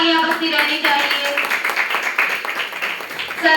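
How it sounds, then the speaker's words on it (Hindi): Loud, close clapping fills a school ceremony honouring a distinguished guest at a birthday celebration for Atal ji, with rapid, uneven hand claps throughout and a voice or tones sounding over the start. "जोरदार तालियां बजती रहनी चाहिए"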